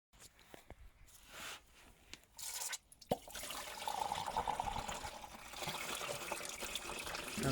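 Rusty coolant water draining from a VW 1.9 TD diesel engine into a container, a faint trickle and drip at first, then a steadier splashing pour close by.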